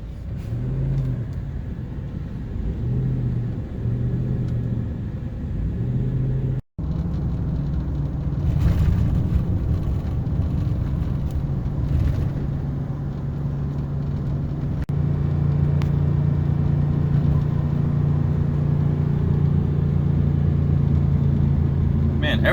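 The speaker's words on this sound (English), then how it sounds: "the Titan does not like pulling trailers uphill." A Nissan Titan truck engine pulls a trailer near the top of a hill, a steady loud rumble running throughout with a brief dropout midway, while someone talks over it.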